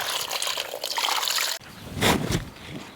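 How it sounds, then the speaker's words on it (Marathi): Water runs steadily while leaves for making vadi are washed and rubbed between the hands on both sides, a close, continuous trickling and splashing that shifts midway as the hands move under the flow, with no voices. "पानं असे हातावर चोळून घ्यायचे बघा दोन्ही साईड हे सगळे पानं असेच आपल्याला धुवून घ्यायचे"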